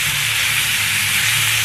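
Ground meat browning in a pan for keto carne picada gives a steady, close, continuous sizzle and hiss with faint low rumbling underneath, alone and without speech.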